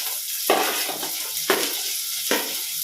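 Coarsely cut onions, added after chopped green chillies, sizzle and fry steadily in a hot pan for restaurant-style chilli chicken, with a constant close hiss broken by three brief stirring scrapes.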